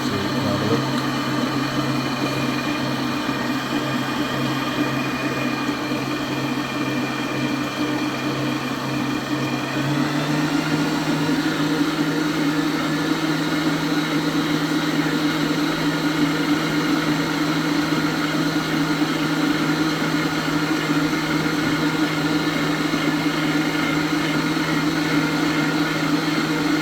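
An electric stand mixer beats cookie dough in its bowl with a steady motor whine and hum that stays loud and continuous throughout, shifting slightly in pitch partway as the load changes.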